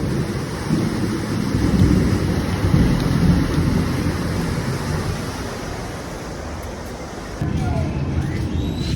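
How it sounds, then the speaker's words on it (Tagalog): A deep, rolling rumble of thunder swells and fades over steady heavy rain during flooding. "Mukulog pa."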